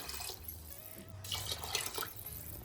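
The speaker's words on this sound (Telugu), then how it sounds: "ఇప్పుడు మొత్తం ఒకసారి మంచిగా కలిపేసుకొని వాటర్ పోసేసుకోవాలి" Water is poured into a pot of mixed dal and rice for dal khichdi, a quiet splashing and trickling pour with faint dripping, heard alone and close.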